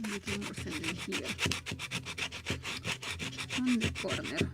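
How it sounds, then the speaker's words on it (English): Close, steady rubbing of sandpaper on a wooden model boat hull, rapid back-and-forth strokes with a raspy texture and faint knocks underneath, no talking. "Maybe a little more sanding here"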